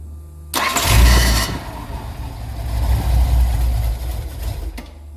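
A 1981 Datsun 280ZX, parked for nine years with electrical issues, cranks briefly with the key and catches, then settles into a loud, close rough idle with no talking.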